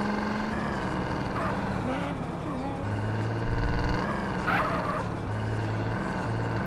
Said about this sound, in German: So, jetzt, ich fahre auf die Autobahn.